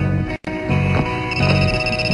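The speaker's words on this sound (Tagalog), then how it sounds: "Ay, phone ko yun ah." A mobile phone rings with a bright, tonal electronic ringtone, a short steady burst broken by one brief gap, loud and close with no speech over it.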